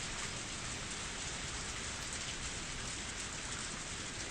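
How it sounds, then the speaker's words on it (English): Steady rain falls outside a building with a Japanese garden, a dense, even hiss of drops on surfaces continuing unbroken and fairly close, with no voices. "Actually, it is raining here as well."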